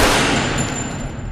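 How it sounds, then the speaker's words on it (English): A single warning gunshot in a TV drama, a loud, close blast that fills the short moment and then trails off in a fading reverberant tail, with no talking. "A warning shot."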